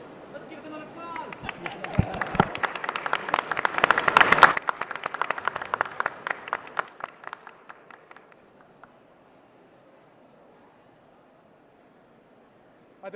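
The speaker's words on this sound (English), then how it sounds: "Let's give them an applause." Applause from an audience at a 2012 mHealth Summit press conference, a dense burst of clapping that builds to a peak and then thins out into scattered claps and murmuring before fading to quiet room tone.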